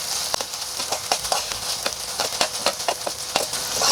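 Ginger garlic paste frying in a pan, a steady bright sizzle broken by repeated sharp crackles and spoon scrapes, close and fairly loud with no talk.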